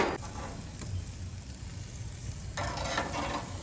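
Tofu sizzles and crackles steadily on a hot grill at a vegan grilling demonstration, a close, continuous frying hiss that swells brighter near the end, with faint scraping and no talk.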